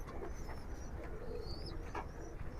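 Pall-line pigeons coo in a loft, soft repeated calls over a constant background hiss, fairly faint, no talk.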